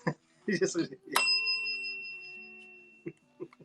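A single bright bell rings out as a joke during a live doodling stream and decays slowly, with voices talking just before it and briefly again afterwards.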